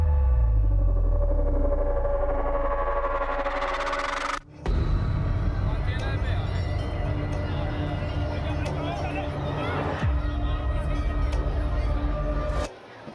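Thousands of people packed into a small space at a crowded religious gathering, producing a dense, steady hubby of voices and movement with brief cuts in the noise.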